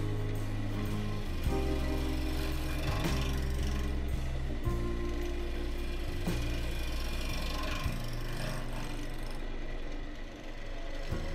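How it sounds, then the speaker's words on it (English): A bowl gouge makes gentle scraping cuts on a wooden box top spinning on a lathe. The motor drones loud and steady beneath shifting tool chatter throughout. "Gentle scrapes with the bowl gouge."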